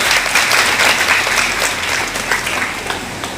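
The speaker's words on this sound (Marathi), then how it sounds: "म्हणून इंजिनियर साठी परत एकदा जोरदार टाळ्या द्या." An audience claps loudly and steadily for engineers at a career guidance seminar on competitive examinations, a dense, sustained round of applause with no speech over it.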